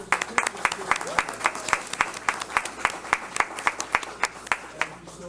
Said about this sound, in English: Let's give them a round of applause, and we'll get their certificate.